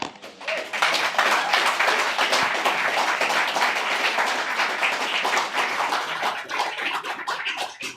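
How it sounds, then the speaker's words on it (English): Audience at a California poetry reading with the state poet laureate breaks into sustained applause after a poem, a dense wash of many hands clapping that stays loud and even throughout. "Another round of applause for Michelle."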